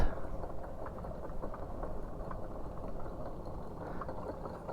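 Ferry engine running through a short crossing in Greece, a steady low rumbling drone with a faint rattle, continuous and fairly close throughout.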